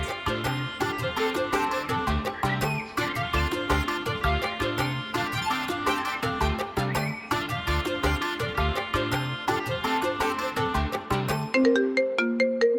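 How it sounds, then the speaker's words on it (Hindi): A melodic phone ringtone plays loudly and continuously, a busy electronic tune that repeats without pause, no voices over it. "एहसान का फोन आ रहा है"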